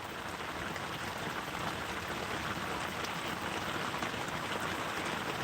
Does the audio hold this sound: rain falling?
yes